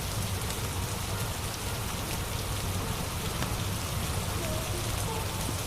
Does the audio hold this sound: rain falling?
yes